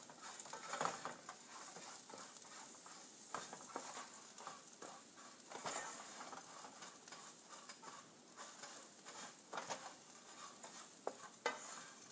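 Rice being tossed in a pan with cilantro and Mexican seasoning gives a steady sizzle, with scraping stir strokes and soft clatters throughout, close and fairly loud, no voices.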